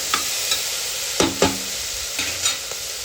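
Potatoes sauté in hot oil in a pan, with a soft continuous sizzle and a handful of distinct scraping stirring strokes at irregular intervals, close up and with no talking.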